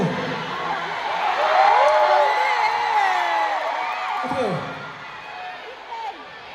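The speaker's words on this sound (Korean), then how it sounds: "다 같이 큰 박수" Concert audience cheering and shouting with a broad crowd roar, whoops rising above it, swelling in the middle and easing toward the end; a voice talks over the crowd.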